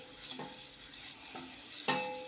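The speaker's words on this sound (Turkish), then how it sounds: "Az bir şey şehriye döküyorum. Ve kavurmaya başlıyorum." Orzo-shaped vermicelli toasts in a pan for a pilaf, giving a constant soft sizzling hiss broken by a few gentle scraping stirs of a spoon, close by and with no talking.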